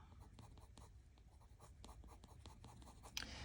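Colored pencil drawing a cardinal on paper, held at an angle in little circles, a soft close scratchy scribbling in quick irregular strokes with no talking.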